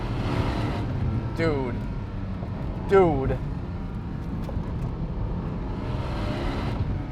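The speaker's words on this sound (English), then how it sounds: "I just hope that I have a microphone capturing this exhaust still mounted." A Porsche 718 GT4 with PDK gearbox, driven hard: its exhaust drones beneath the cabin, with two rising engine sweeps around the gear changes, one of them louder. Someone speaks a single word over it.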